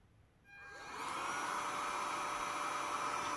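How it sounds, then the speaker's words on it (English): A cordless heat gun in cool-down mode, blowing only cold air: its fan spins up from quiet within the first second into a steady, close whir with a clear tonal whine, running alone without speech. "When activated, the user can leave the heat gun aside, and for about 40 seconds it will be blowing only cold air."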